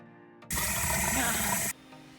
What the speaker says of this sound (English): let's put some water on them